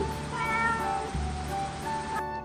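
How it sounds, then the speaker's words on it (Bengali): A cat meows in a couple of drawn-out, tonal calls, clear and close with no talking. "ক্যাটকে বাংলায় বিড়াল বলা হয়। তো এটা হলো ক্যাট, বাংলায় বিড়াল।"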